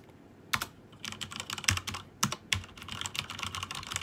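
Typing on an ASUS ROG Strix Scope TKL Gundam Limited Edition mechanical keyboard, a fairly quiet, close run of irregular clacky keystrokes with a few heavier presses mixed in, heard alone without talking.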